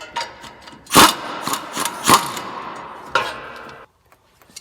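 An impact wrench fitted with a 3/4 inch wobbly socket hammers on a Toyota Tacoma during front wheel bearing replacement near the lower ball joint. Several loud, close rattling bursts come in quick succession, then stop abruptly into near silence.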